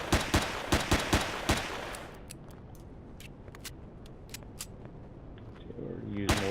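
Rapid bursts of gunfire in the video game Empyrion, about eight sharp shots in quick succession during the first two seconds, then scattered single shots against a low rumble, with a voice talking.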